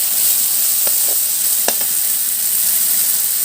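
Food frying in a pan with a steady bright sizzle, a few sharp scrapes of stirring breaking through it, as dried fish and shewali flowers are cooked for khar.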